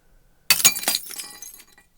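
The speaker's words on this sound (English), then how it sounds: "I'll include a glass break or shatter on the second crash and see how that sounds." A sound-effect glass break for an edit: a sudden, bright shatter followed by scattered tinkling shards that fade out over about a second, heard alone.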